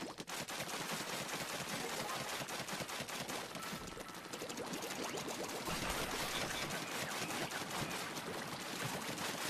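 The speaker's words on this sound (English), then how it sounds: "Is there a shotgun-like weapon from Splatoon that shoots really fast?" In Left 4 Dead 2 with a Splatoon mod, the Grizzco Brella shotgun fires in fast, continuous bursts, a dense rattle of rapid shots up close with no voices over it.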